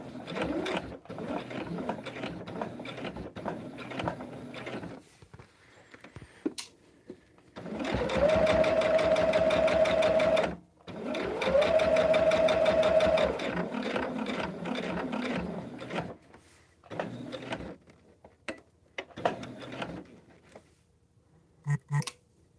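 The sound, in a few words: sewing machine stitching a quilt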